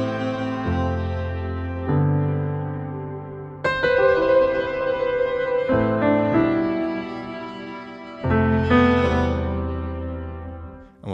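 Piano plugin played through a swarm effect, sustained layered chords shifting every couple of seconds with a dense, shimmering, buzzy texture, fairly loud and steady.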